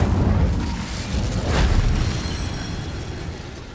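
Incendio fire spell bursting in Hogwarts Legacy, a single whooshing blast that swells near the middle over a low rumbling bed, with no voices.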